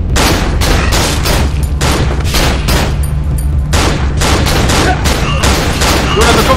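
Enemy gunfire in the horror video game Cry of Fear, loud rapid bursts of gunshots in clusters with short gaps, dense and close across the whole stretch, with no talk over it.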